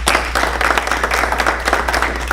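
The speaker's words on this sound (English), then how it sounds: "Let's give ourselves a big round of applause." Rotary Club members clap for themselves at a weekly meeting, a steady patter of applause from a small room filling the short stretch at moderate level.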